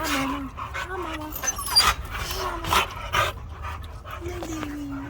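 Several pit bulls bark and pant close by in short bursts, with a person talking softly over them.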